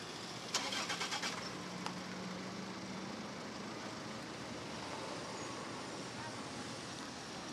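A car parked on a sidewalk starts up with a short cranking burst, then settles into a low, steady engine idle in the street, while a voice speaks nearby.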